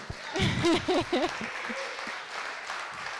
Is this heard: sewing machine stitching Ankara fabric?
no